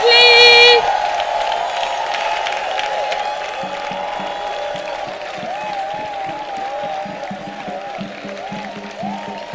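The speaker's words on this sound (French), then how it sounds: "Acclamation très fort. Clap loudly." A congregation at a church intercession prayer gathering claps loudly and acclaims, with cheering and whooping voices rising over a crowded wash of applause after a brief tone at the start.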